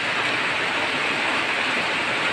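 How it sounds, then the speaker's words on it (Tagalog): Heavy rain pouring steadily at a home during a flood, a dense continuous wash of broadband hiss with no breaks, close and fairly loud, with no one talking. "Lakas ng ulan dito."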